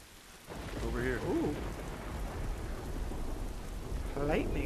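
Rain pours steadily in a thunderstorm in The Last of Us Remastered, with a low rumble of thunder beneath it and short spoken exclamations rising over the downpour near the start and end.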